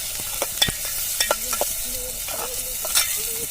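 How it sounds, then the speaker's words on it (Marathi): Onion and tomato frying in oil in a pan as they are stirred, with steady sizzling broken by repeated scraping and clinking strokes of a spoon against the pan, close up and without talk. "कांदा टाकल्यानंतर त्यामध्ये टोमॅटो टाकलेत हे सगळं हलवून घ्यायचं"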